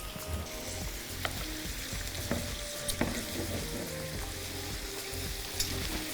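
Okra (bhindi) frying in a pan gives a steady, close sizzle with a constant hiss, broken by a few sharp clicks and light stirring taps spread across the stretch.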